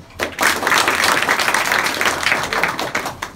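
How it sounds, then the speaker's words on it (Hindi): Students at an intercollege adolescent education programme in Motipur, Azamgarh break into steady, dense applause that swells quickly and holds for a few seconds, filling a large room. "सर के लिए ताली तो बजा दो।"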